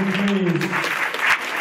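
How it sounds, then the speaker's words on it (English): A short burst of applause from a crowd, clapping together briefly while a voice speaks over it. "Give them all a polite round of applause."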